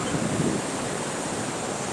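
The Bhima river in flood, flowing full, makes a steady, broad rushing roar of water. The sound is continuous and even, with no voices heard over it.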